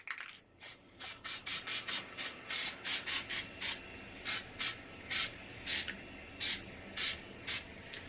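Short hissing bursts from a can of spray glue, a dozen or more quick misting puffs in an irregular rhythm, close and fairly quiet.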